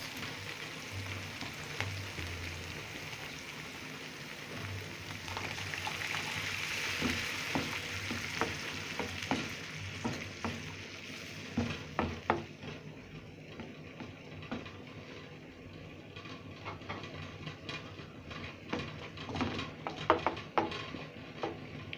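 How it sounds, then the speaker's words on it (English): Blended tomatoes sizzle and fry in a pan with a steady hiss, while a utensil scrapes and clinks against the pan in frequent irregular stirring strokes that grow more prominent toward the end. "we will add our blended tomatoes"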